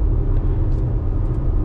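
A car cruising on a highway in fourth gear gives off a loud, steady low rumble of engine and road noise that holds even, with no speech.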